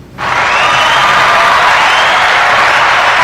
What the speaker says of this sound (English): We got to give her that round of applause